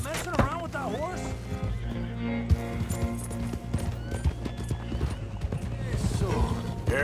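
A horse at the stables of a manor where thoroughbreds are kept, with clip-clopping hooves, snorts and a whinny nearby, mixed with people talking and other movement.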